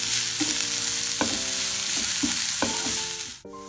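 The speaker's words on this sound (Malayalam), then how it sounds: "ഇഞ്ചി വെളുത്തുണ്ട് പച്ചമുളകൊക്കെ പോകുന്നവരെ നല്ലവണ്ണം മൂപ്പിച്ചെടുക്കാം." Ginger, garlic and green chillies sautéing in a pan for a Kerala clam roast, with a steady loud sizzle broken by repeated scraping stirs of a spoon, then a brief dip and a clatter at the end.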